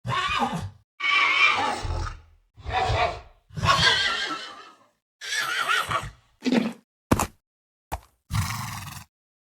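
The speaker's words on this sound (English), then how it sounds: "we have some new sound effects for the baby horse, 9 new ones to be exact" Baby horse sounds from Minecraft: a series of about nine short, separate whinnies, snorts and grunts, each followed by silence. The last few calls are quicker and clipped. They are loud and close, with no talking.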